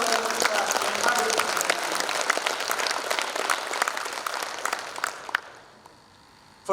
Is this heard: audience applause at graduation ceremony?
yes